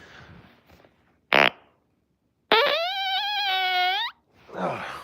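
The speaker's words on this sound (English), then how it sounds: "Oh man, I got a fart." Loud, close farts: a short sharp burst followed after a pause by a long, drawn-out buzzing one lasting over a second, with someone talking before and after.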